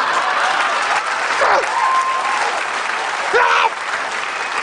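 A comedy club audience claps in a dense, steady burst of applause lasting several seconds, loud and close, with faint voices mixed in.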